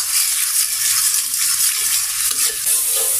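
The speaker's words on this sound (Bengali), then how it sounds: "এই মশলাটা আবার কষিয়ে নেব।" A spice paste of turmeric, chili powder and salt sizzles and fries in hot oil, a loud close steady crackle with the scrape of stirring, no voices.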